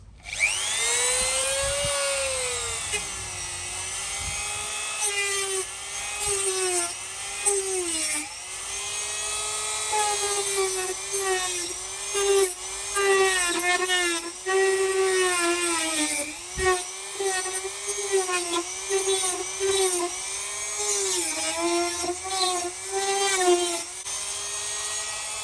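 A Dremel rotary tool grinds down plastic welding staples on a damaged VY bumper, a steady high whine running throughout with rising and falling pitch as the bit bites and eases, close and loud, no talk.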